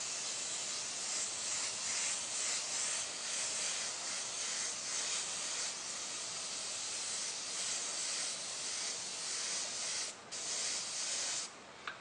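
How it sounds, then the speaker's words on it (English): An airbrush sprays paint onto the outside of a stencilled skull design in a steady, close hiss that runs almost unbroken, with only a couple of very short pauses near the end. "I'm going to go ahead and airbrush the outside to begin with"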